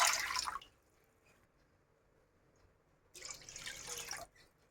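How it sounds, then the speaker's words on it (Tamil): Water splashes and pours into a cooking pan on a stove in two short bursts separated by a quiet pause, the second pour lasting about a second, with no talking. "அடுப்பில் இந்த மாதிரி கடாய் வச்சு இந்த 2 சொம்பு தண்ணி இதில் போடுங்க"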